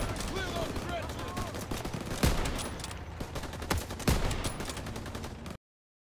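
Gunfire rattles in the World War Two shooter Call of Duty: WW2 during a trench assault, loud rapid automatic bursts with a few sharp heavier shots over a busy battle din.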